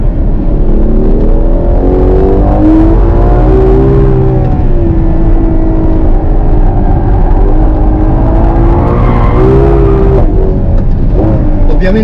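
A Ferrari 12Cilindri V12 engine revs and drones loudly with rising and falling pitch, sustained throughout, with a voice faintly underneath.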